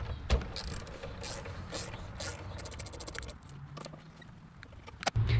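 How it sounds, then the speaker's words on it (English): A ratchet works the two 13mm nuts off the home plate on a Chevy 5.7 LT1 engine during a cold air intake install, giving a close, steady run of rapid mechanical clicking with a few sharper knocks near the end. "you're going to remove these two 13mm nuts off of this home plate"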